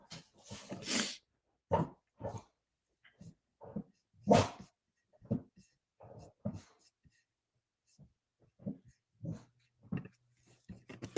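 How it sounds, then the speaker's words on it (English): A dog barks in a string of sharp, separate bursts, some single and some in quick pairs, loud and close, with short pauses and a few softer huffs between them and no talk over it. "Guy always is barking at me."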